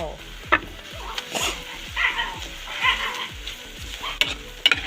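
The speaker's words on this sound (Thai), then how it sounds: "ผัดจนสุกและตักเสิร์ฟได้เลยจ้า" Spicy frog with holy basil stir-fried in a pan, a steady close sizzle broken by regular scraping strokes of the spatula, with a few sharper clanks toward the end.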